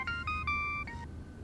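A mobile phone ringtone signals an incoming call, a short bright melodic phrase of several tones heard once, fairly faint, with no talking.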